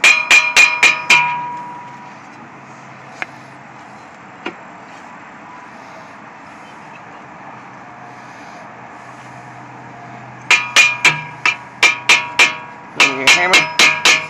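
Bursts of sharp metallic hammer blows on a tie rod end of a 2005 Toyota Corolla, several quick strikes at the start and a rapid series near the end, with a quiet hum between.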